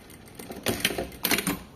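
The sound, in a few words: sewing machine topstitching a zipper fly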